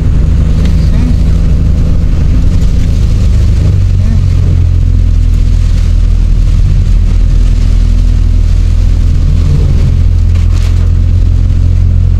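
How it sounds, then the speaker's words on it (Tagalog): Heavy, unbroken tropical storm rain pours on a car driving the winding zigzag road toward Tagaytay, Philippines, during Typhoon Carina. A loud, steady wash of rain and road noise sits over a low engine drone throughout. "Walang tigil na ulan."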